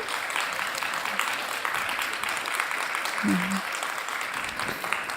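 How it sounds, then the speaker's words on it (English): Conference session audience at a research and innovation event applauds three participants, with moderate, somewhat distant clapping running throughout and a brief voice sound in the middle. "I would like to say thank you and a big applause to our 3 participants here"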